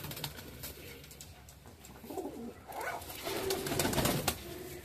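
Kamagar and Golden pigeons coo softly nearby in short rolling phrases that grow louder toward the end, with faint bird movement and no talking.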